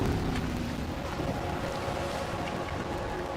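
In the video game Max Payne 3, a boat glides in on the water with its engine cut, heard as a steady, close rush of water and wind noise with no voices.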